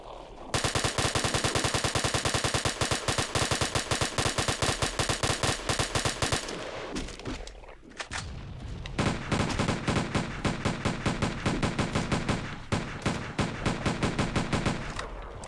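Halo Custom Edition game gunfire on the Survival Canyon Beta map. Rapid automatic fire rattles continuously for several seconds, breaks briefly, then returns in bursts, loud throughout with no talk.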